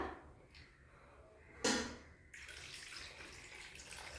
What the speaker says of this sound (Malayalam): അപ്പോൾ നമുക്ക് ഇതിലോട്ട് നുള്ളി വെള്ളം ഒഴിച്ചു കൊടുക്കാം